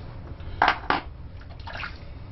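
Water splashing during a rinse in a razor shave: two quick close splashes followed by softer trickling, brief and alone.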